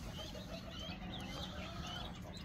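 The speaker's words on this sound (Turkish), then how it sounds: "Horoz ve tavuğumuz" A farm rooster and hen cluck faintly at a distance over a low, constant background rumble, the calls soft and scattered.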